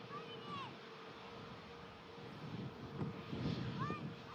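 An Airbus A320neo rolls out after landing at Manchester Airport in stormy weather, a faint, steady roar of engine and wind from a distance as a commentator talks over it.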